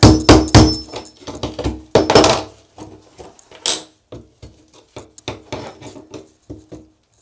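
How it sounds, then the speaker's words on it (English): Sharp metallic chisel strikes knock against hard tile, irregular hits clustered loudly at first, then sparser clicks and chips trailing off. "I'm just going to start with the chisel and see what I can get out of here"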